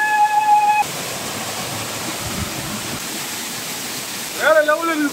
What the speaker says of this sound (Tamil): ஆ, தண்ணி எப்படி கொட்டுது பாருங்க, வேற லெவலில் இருக்கு.